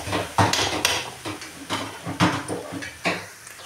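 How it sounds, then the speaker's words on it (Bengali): Metal spatula scraping and knocking against a pan while potatoes are stirred with salt for a Bengali hing aloo recipe, irregular clattering strokes close up, with a faint sizzle underneath. "আবার নাড়িয়ে চাড়ি দেবো"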